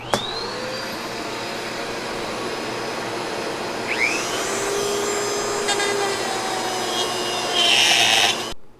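A handheld router cuts a pickup cavity in a Telecaster guitar body while a suction vacuum runs alongside, making a loud, continuous high-pitched whine with slight shifts in pitch as the bit works, close by and without talk.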